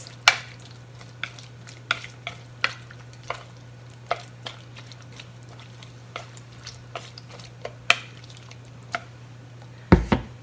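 Komatsuna ohitashi being mixed by hand: soft, irregular wet taps and squishy clicks spaced a second or so apart, quiet and close, over a low steady hum.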